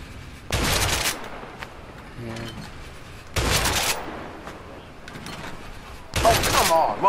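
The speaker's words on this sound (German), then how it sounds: "Du kannst auf die Flaschen schießen, die ich jetzt werfe." Three loud gunfire bursts, each about half a second, spaced a few seconds apart, aimed at thrown bottles in the video game A Way Out, with quieter game ambience and faint sounds in between.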